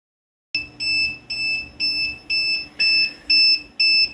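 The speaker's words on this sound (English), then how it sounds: "we got the beep from the alarm" After a moment of silence, a solar power station's inverter alarm beeps loudly in a steady, repeating pattern of eight evenly spaced high-pitched tones, while pulling 42 amps.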